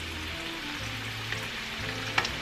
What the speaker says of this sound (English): So now we're ready to start frying our taquitos.